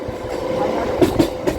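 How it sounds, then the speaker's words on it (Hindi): MEMU passenger train pulling into Bihta railway station near Patna, India: a steady low rumble of the moving train with a few sharp rail clacks and thumps late on, heard from on board, no talk. "पटना से 27 किलोमीटर का डिस्टेंस तय करके अपनी ट्रेन अब पहुँच रही है बिहटा रेलवे स्टेशन।"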